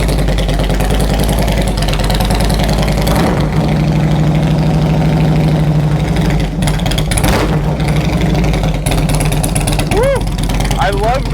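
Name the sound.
car engine revving up and dropping back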